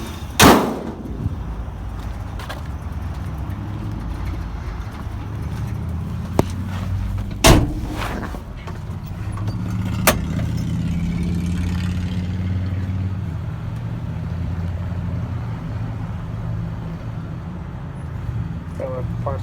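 A 1967 C20 three-quarter-ton pickup with manual steering drives along, its engine a steady low drone that rises and holds. Door thumps and sharp knocks come early on, and someone talks over parts of it.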